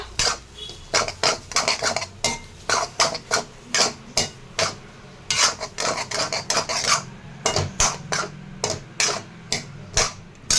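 Fried rice stirred in a pan with a utensil: rapid, rhythmic metallic scrapes and clinks repeating steadily, close and fairly loud, with no voices.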